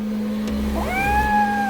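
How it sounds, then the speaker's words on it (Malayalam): A cat gives a single rising meow over a steady low electrical hum in an indoor scene from a Malayalam TV drama. "ഇതേതാ ഈ പൂച്ച?"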